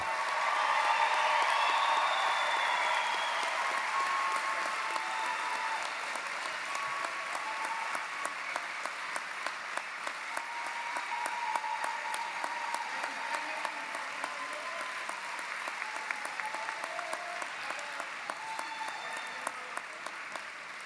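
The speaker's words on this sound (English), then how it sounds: "Please join us in another round of applause for all of our graduates." Sustained applause from a large audience at a graduate commencement ceremony, dense clapping that stays steady for about twenty seconds and slowly thins, with faint crowd voices underneath.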